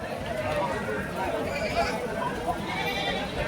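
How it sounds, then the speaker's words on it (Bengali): Goats bleating at a crowded goat market at a village cattle fair in Bagerhat, Bangladesh, with several calls rising over steady crowd chatter and people talking nearby. "ছাগলের হাটে চলে আসলাম"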